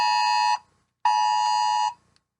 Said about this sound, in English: That was an Amber Alert.